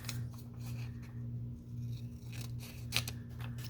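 Scissors cut through paper in a series of close, quick snips and rasping slices, set against a faint steady electrical hum, with no voices.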